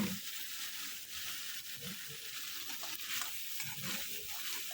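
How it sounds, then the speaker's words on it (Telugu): Fish sizzling in a tomato and green chilli gravy, a steady broadband frying hiss with soft stirring scrapes running through, fairly quiet and close, with no talk. "ఇంకో టమాటా గ్రేవీ పచ్చిమిర్చి వేసుకున్నాను బాగా వేగిపోయిన తర్వాత చేపలు వేసుకున్నాను"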